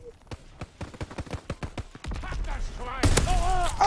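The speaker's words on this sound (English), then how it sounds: "A little shotgun action." Rapid string of sharp gunshots in the World War II shooter game Call of Duty WWII, about a dozen quick cracks, followed by louder heavy blasts and rumble, close and punchy.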